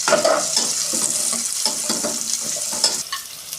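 Chopped onion sizzles in a pan for soya fry while being stirred, with a steady frying hiss and scattered scraping clicks of a utensil close by.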